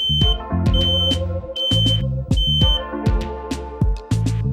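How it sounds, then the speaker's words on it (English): An electronic smoke or fire alarm sounds during a fire emergency drill, giving loud, repeated beeping tones in a steady rhythm over a busy mix of other tones, with no talking. "If you are non-technical and hear alarm sound, there is some safety procedures."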